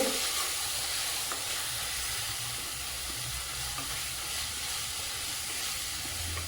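Bitter gourd roasting with spices and deggi mirch chili in a pan gives off a continuous, even hiss and sizzle, with faint stirring scrapes now and then, heard close with no talking.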